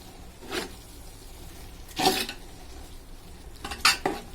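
Beef biryani is stirred in a pot after chili powder goes in. Three distinct scraping clanks of a large spoon against the metal sound over a faint background hiss, evenly spaced and fairly close.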